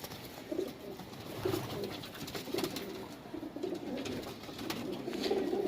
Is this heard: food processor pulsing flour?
no